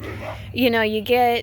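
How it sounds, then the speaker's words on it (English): Two short, whiny dog vocalizations, like playful yips or whimpers, sound close by, with brief speech underneath. "Please pardon the dogs in the background playing."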